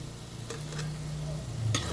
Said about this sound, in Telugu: బాగా ఫ్రై చేయండి.